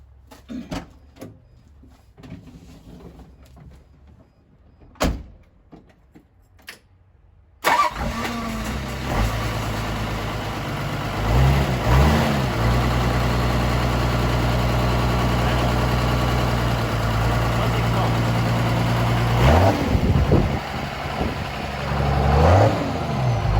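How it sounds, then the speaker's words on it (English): A rebuilt Toyota Land Cruiser 12HT turbo diesel engine stays silent for several seconds amid small clicks, then cranks and catches abruptly, settling into a loud, steady diesel idle with a rumbling, uneven chatter that continues to the end. "so we're ready to start it up here, and we'll see if it works properly, as it should"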